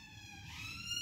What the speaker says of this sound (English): siren, just because every video I do has to have a siren in it for some reason